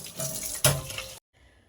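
Running tap water splashes steadily into a sink while washing dishes for about a second, then cuts off abruptly, leaving near silence.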